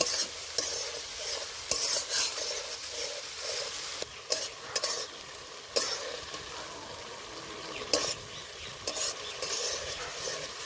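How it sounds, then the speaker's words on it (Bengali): Chopped tomatoes with spices sautéing in a pan for a vegetarian potato curry: steady sizzling frying with repeated scraping stirs of a spoon against the pan, close up and without speech. "এইবার দিয়ে দেব কুচি করা টমেটো আবারও কিছুক্ষণ কষে নেব"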